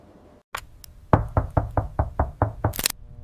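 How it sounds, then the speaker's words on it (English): A series of about seven knocks lands in an even, moderately quick rhythm, close and distinct against a quiet background. A short isolated tap comes before the run, and a sharper burst closes the sequence. "A soft knock"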